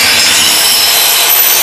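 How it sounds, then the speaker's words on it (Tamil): A power saw cuts through UPVC door and window frame profile, giving a loud, dense, continuous hissing rasp that fills the whole short moment without a break. "இங்கே வந்து மெயினாக ஃப்ரேம் கட்டிங்"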